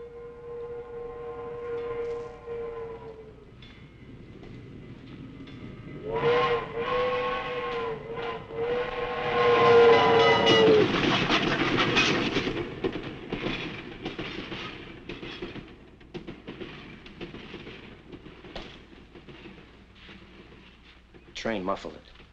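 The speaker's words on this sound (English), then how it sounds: "Train muffled it." A steam train in a 1954 feature film passes with a long wailing steam whistle, blowing in two separate calls amid a rising rumble of rail noise and clatter, while a voice briefly speaks over it.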